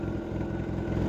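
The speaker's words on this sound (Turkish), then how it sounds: "Sanki 0 kilometre bir motor ya. O kadar sakin işliyor." Steady, smooth low idle hum of a Peugeot Vivacity scooter engine, close and continuous with a soft even throb, no voices.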